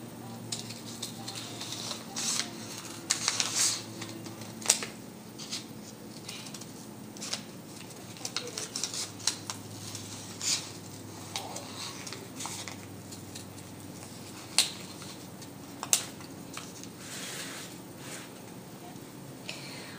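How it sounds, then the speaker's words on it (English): Scissors cut through folded paper to make a snowflake, a series of close, crisp snips and rustling crinkles in irregular bursts over a quiet room background, with no talking. "I'm going to take the scissors and I'm going to cut all the way across the open edge in a pattern"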